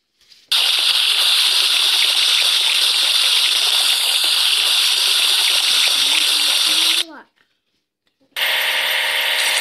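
Spray water from a cartoon rocket-washing kids' puzzle game gushes in a steady, loud hissing stream, cuts off with a short gurgle and silence, then starts spraying again.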